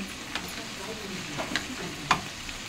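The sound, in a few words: frying ginger and garlic for jackfruit curry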